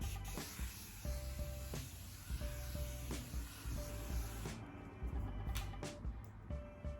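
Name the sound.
spraying makeup setting spray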